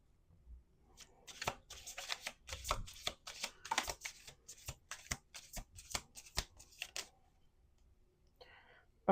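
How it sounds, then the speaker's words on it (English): Playing cards are shuffled in a rapid series of crisp riffling bursts, quiet and close, running for several seconds before stopping. "We're gonna do two more shuffles."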